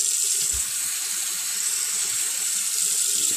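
Tap water runs steadily into a sink while soapy hands are rinsed under the stream, a continuous close hiss with a faint low bump near the start and no talking.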